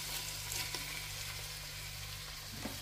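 Pork and liver browning in a pan for menudo, giving a faint, even frying hiss with a few soft stirring ticks and no talking.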